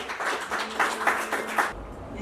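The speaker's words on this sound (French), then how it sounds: "Applaudissez pour les tous." Guests clap at a civil wedding ceremony, a steady patter of many hands that swells in brief pulses before cutting off abruptly near the end.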